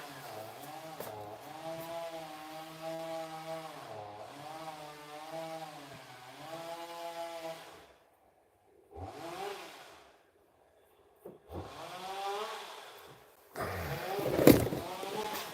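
Chainsaw engine running outdoors, its harmonic drone rising and falling through several long revving bursts separated by pauses, moderately distant, with a louder sharp burst near the end.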